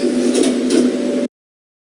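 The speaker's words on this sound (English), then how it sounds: "Doors opening." Sliding doors of a cheap generic lift open with a steady mid-pitched whirring glide lasting just over a second, then stopping abruptly into silence.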